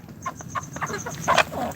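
Healthy farm chickens of a Pakistani breed run about and give a quick string of short, close clucks, fairly loud and with no voices.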